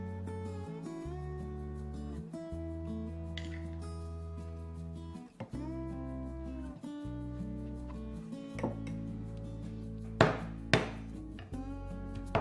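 A few sharp knife strikes near the end as aubergine is chopped into rough chunks on a board for a stuffed aubergine dish, with steady background music playing throughout.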